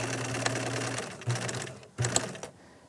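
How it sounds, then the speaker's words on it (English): A sewing machine runs close up, stitching fabric in three short bursts with back stitching, each run a quick whirring hum followed by a brief stop. "Practicing each time, back stitching. Watching your guide, keeping your hands, not pushing or pulling, just guiding the fabric."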